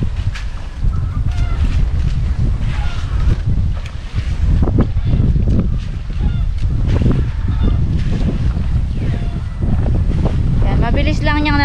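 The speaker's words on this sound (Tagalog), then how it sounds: "Napakalakas ng hangin." Strong wind gusts roar and buffet the microphone across an open rice field while fertilizer is spread, a loud continuous rushing with low rumbling, and a voice talks faintly underneath.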